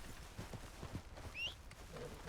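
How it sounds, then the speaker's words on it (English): Horse hooves clop in a quick, uneven rhythm as the horse runs off in the Red Dead Redemption 2 video game, moderately loud at first and fading slightly, with brief whinny-like tones above. "What's up with the horse? It's running away from me."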